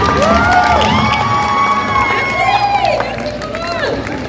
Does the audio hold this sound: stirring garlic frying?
no